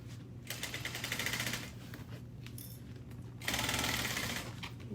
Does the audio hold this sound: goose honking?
no